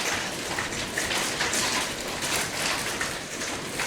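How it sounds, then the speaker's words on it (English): Steady, dense patter of hail pounding down outside in a heavy thunderstorm, a continuous loud wash of impacts with no let-up and no voices. "Sounds like it got hail coming down outside."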